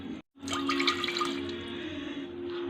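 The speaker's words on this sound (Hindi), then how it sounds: "तो यहाँ पे हम एक कुकर लेंगे जिसमें हम थोड़ा पानी डालेंगे" Water pours into a kitchen pressure cooker, starting after a brief gap with a close, steady splashing stream and a ringing tone from the pot as it fills.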